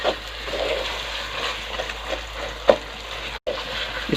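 A spoon stirs thick nishasta halwa in a kadai, giving a continuous soft sizzling and scraping with occasional sharper clinks against the pan, close and moderately loud, with a brief dropout near the end.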